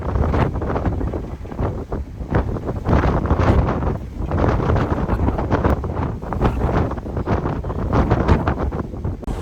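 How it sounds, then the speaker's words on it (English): Strong wind buffets the microphone on a ferry deck off Turkey in a steady, loud roar, with a low rumble of the ship's engine and water underneath. "Super windy here on the ferry."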